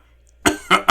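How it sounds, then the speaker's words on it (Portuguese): Three sharp coughs in quick succession from a nearby adult, following a moment of near silence. "Há quanto tempo você está com essa tosse?"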